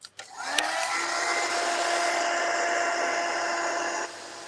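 A heat tool or dryer blows on paint on a mixed-media collage, starting up with a quick rise, then holding a steady whirring blow for about four seconds before switching off, close and alone.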